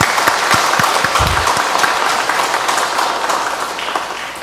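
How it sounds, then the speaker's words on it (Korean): Loud, sustained applause from a large congregation at a Catholic Mass in a church, dense clapping that gradually tapers off toward the end. "우리 자축하는 의미로 한번 박수 한번 치고 시작할까요?"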